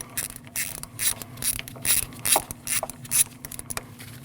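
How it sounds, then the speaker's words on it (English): A ratchet clicks in quick, uneven bursts as it loosens a 10mm bolt under the hood of a 2014–2023 Jeep Cherokee 2.4L four-cylinder, close and crisp with no talking. "Take your 10mm, loosen that up."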